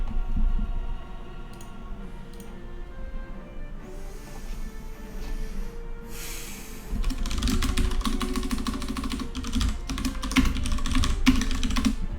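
Rapid typing on a computer keyboard, close and steady, starting light and sparse, then building into dense continuous key clatter over a low background hum.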